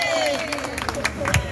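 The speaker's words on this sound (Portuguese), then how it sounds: "Pode bater palmas aí" People clap at a grandmother's outdoor birthday celebration held with a live message car in Vila Antonieta, with brisk claps and some cheering blended under a voice and music.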